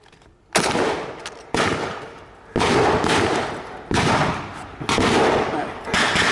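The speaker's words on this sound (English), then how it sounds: "Give him some covering fire!" Reenactors at a D-Day reenactment of the La Fière Bridge battle fire covering gunfire, six loud, sharp volleys about a second apart, each echoing into a decaying tail.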